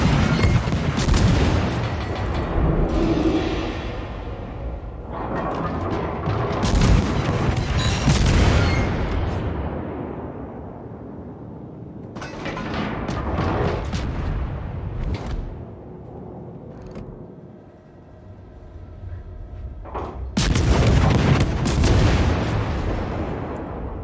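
Warship gunfire in World of Warships, heavy booming salvos and rumbling explosions recurring across the battle, loud and near, with quieter lulls between volleys and no talk.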